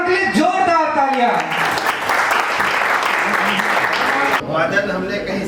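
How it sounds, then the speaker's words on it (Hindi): An audience claps loudly for a tabla player at a percussion event in Ayodhya, a dense burst of applause that follows a spoken introduction and then drops away sharply, with talking resuming briefly. "एक बार उनके लिए जोरदार तालियां।"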